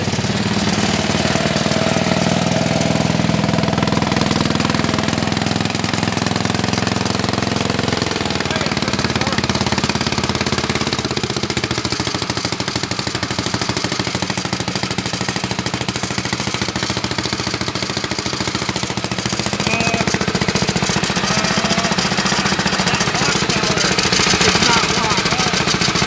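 Twin engine go-kart with both small engines idling, a steady loud rumbling drone with a rough, knocking texture throughout, changing tone slightly partway through, with faint voices under it.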